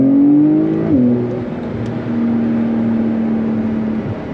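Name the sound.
Porsche 911 Carrera S flat-six engine sound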